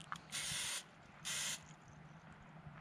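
Two short hissing bursts from an aerosol cooking-oil spray can, each under a second, over a low background hum, at a campfire.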